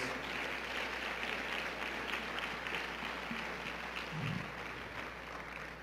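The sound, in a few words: applause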